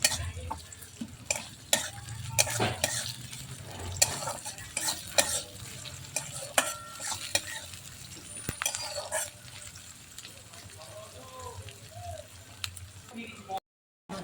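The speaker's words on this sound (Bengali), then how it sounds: "এবার পেঁয়াজটা একটু ভেজে নেব" Chopped onion with spices frying in a pan for a rohu fish and potato curry, a steady sizzle broken by frequent scraping stirs and clinks of a spoon against the pan, close and fairly loud, with a voice now and then.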